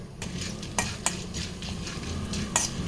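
Toor dal and black pepper frying and being stirred in a pan, a steady close sizzle with a few sharp scrapes of the spoon against the pan.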